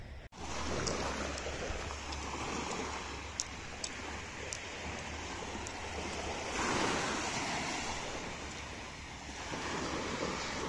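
Gentle sea waves wash steadily in a soft, continuous surf with some wind noise on the microphone and a few faint clicks.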